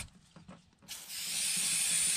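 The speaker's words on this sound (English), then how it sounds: "And we'll spray it off with some parts cleaner." Aerosol parts cleaner sprayed onto a freshly tightened drain bolt under a Nissan Altima after a CVT fluid change, a sudden steady close hiss that starts after a few soft clicks and holds to the end.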